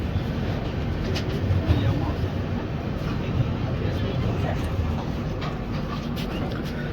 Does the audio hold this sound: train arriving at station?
yes